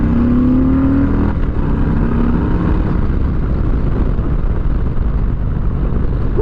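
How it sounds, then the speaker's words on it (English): Motorcycle engine roaring steadily at speed, a loud, continuous rumble with a short rising rev early on, heavy wind-like noise throughout and no talk. "I love this damn motorcycle, man."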